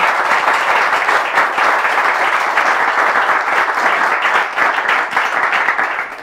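An audience applauds loudly and steadily for about six seconds, a dense wash of clapping that fades slightly at the end.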